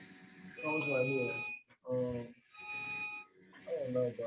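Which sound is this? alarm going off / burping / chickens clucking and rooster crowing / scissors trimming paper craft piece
alarm going off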